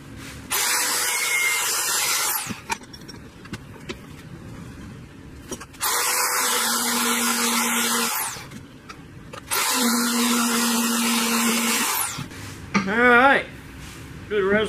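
Grinder working on custom car pedal parts for a 1938 Dodge, running in three long steady bursts of loud broadband whine separated by short pauses, with a brief tonal squeal near the end.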